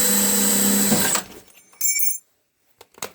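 A power drill whines loudly and steadily for about a second while drilling thick metal on a snowblower impeller kit install, then cuts off, followed by a few short clicks and clatters.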